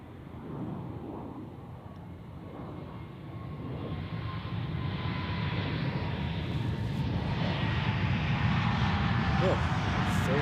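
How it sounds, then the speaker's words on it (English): A KLM Airbus A321neo airliner landing at Zurich Airport gives a continuous broad engine roar that slowly builds in loudness, and a faint whining tone rises and falls under the rumble. "KLM A321neo, which arrived from Amsterdam earlier today."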